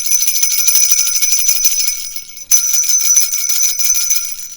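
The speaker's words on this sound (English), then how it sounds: "Bells." Bells jingle and ring continuously in a bright, high shimmer, loud and close, briefly pausing midway before the tinkling resumes, with no talking over it.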